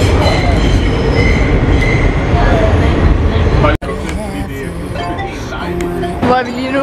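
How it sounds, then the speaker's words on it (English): A New York subway train rides along with loud steady rumble and wheel screeching, briefly cutting out before continuing with rattling clatter as the car moves. "Status er, at vi sidder i metroen nu"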